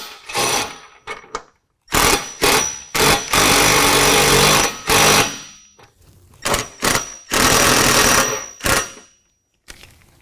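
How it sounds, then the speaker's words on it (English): Body mount bolts going back into a Jeep Wrangler JL, driven by a loud power tool in repeated bursts of whirring and rattling, some long and some short, with quiet gaps between them. "we're going to go ahead and reinstall our body mount bolts"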